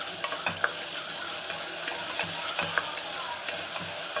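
Onions frying in a pan with ginger garlic paste, stirred with a utensil: a steady close sizzle broken by repeated scraping stir strokes, no voices.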